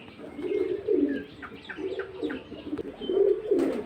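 Nila Kamagar high-flying pigeons coo in soft, repeated rolling phrases of about three low bursts, close by, with faint chirps and a brief flutter near the end and no talking.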